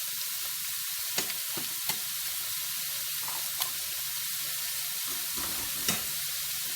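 Onions and mushrooms sizzle steadily in a pan as they caramelize, a continuous frying hiss broken by a few brief stirring clicks, close and with no one talking.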